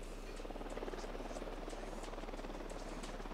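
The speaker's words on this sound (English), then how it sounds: "can this helicopter just piss off?" A steady helicopter rotor thrum in Ghost Recon Wildlands drones on, faint and distant, its rhythmic chop holding constant throughout.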